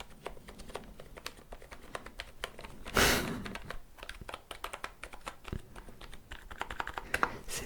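Fast, close clicking of keys on a cheap, broken ten-euro computer keyboard, typed in irregular bursts with one louder rustle partway through and no talk.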